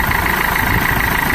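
A diesel Nissan Note engine idles steadily up close, an even droning hum with no changes in pitch.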